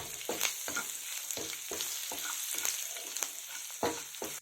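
Halved dried red chillies and curry leaves sizzling in hot oil, a steady crackling hiss with sharp spatters and stirring scrapes repeating every half second or so.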